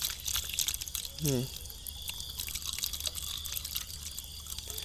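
Old nutrient fertilizer water is poured into a hydroponic tray for growing salad greens, making a steady trickling, splashing flow with a brief gurgle, close by and fairly quiet.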